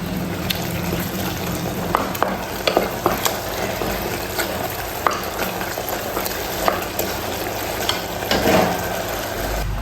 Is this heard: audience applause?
no